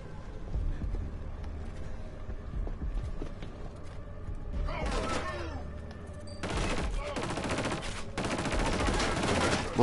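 Enemy gunfire in the shooter game Killzone Shadow Fall: a low rumbling battle bed with scattered shots, then dense bursts of rapid automatic fire erupting in the second half, loud and close, with a voice talking in places.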